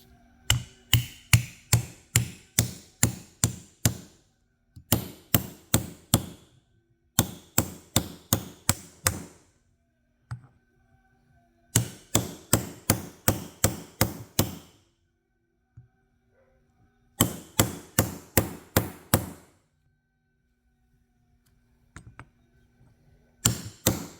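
Bearings tapped into a rear axle carrier with a 42 mm socket, sharp metallic hammer blows in rapid bursts of six to eight strikes, separated by short pauses, close and crisp.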